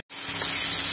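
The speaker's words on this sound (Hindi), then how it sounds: "मसाले की आप आवाज़ सुन सकते हैं और इससे ऑयल निकल कर बाहर आ गया है" Masala spices sizzling and frying in oil in a handi pot over a medium flame for a dhaba-style mixed vegetable dish, a steady close hiss that starts abruptly and holds through.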